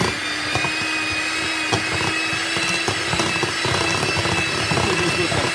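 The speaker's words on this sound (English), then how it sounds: "now we're gonna beat this until well combined with a hand beater" A handheld electric mixer whirs steadily while beating batter until well combined, a continuous motor drone with faint rattling throughout.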